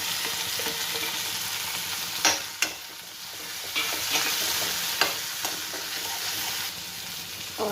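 Tomatoes and spinach frying in a pan, stirred with a utensil: a steady close sizzle throughout with several sharp scrapes and taps of the spoon against the pan, no talking.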